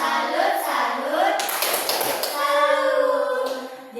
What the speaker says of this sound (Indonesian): Santiago, berikan Dian tepuk salut